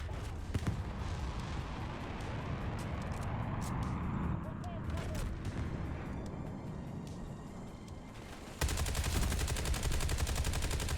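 Gunfire in Call of Duty: Black Ops 2, rapid automatic bursts and single shots crackling steadily throughout, loud and close, mixed with game noise and a louder dense stretch at the end, with someone talking over it.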